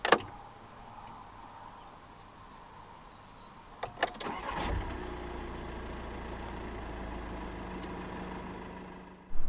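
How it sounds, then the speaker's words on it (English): A 2016 Volkswagen Caddy Maxi Life 2.0 TDI 102 diesel starts up. A few clicks come first, then a short cranking burst as the engine catches and settles into a steady low idle, followed by another click at the end. "To start the Caddy, put your foot on the brake, insert the key into the slot right here, and twist the key like you would in a normal car."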